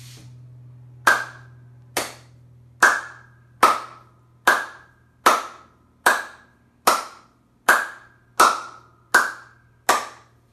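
Hand clapping in a body music lesson, where one hand rotates to change the pitch: about eleven sharp, evenly spaced claps ring out close and alone over a low steady hum, each with a brief tonal ring.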